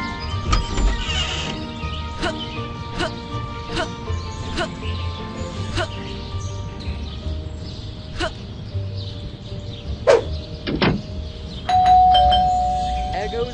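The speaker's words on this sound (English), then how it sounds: "Stupid bell again." Repeated doorbell rings in the Scary Teacher 3D video game, chiming several times amid game sounds and crashes, with a character's voice speaking over them.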